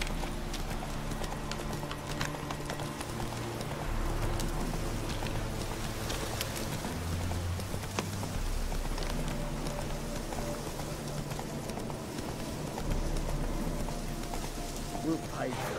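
Geralt's horse Roach gallops in The Witcher 3: Wild Hunt, a steady rhythmic clip-clop of hooves running continuously, with ambient game sound behind it.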